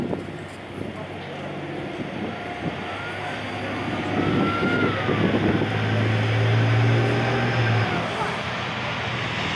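A Challenger 2 driver training tank on instruction runs at Bovingdon, the Royal Armoured Corps training centre, its engine a steady heavy roar that swells louder midway, with a low droning tone and wind noise throughout.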